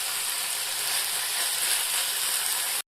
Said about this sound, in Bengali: এগুলোকে নাড়াচাড়া করতে থাকবো যতক্ষণ পেঁয়াজটা গোলাপি রং না ধরে, ততক্ষণ এটা নাড়তে থাকবো।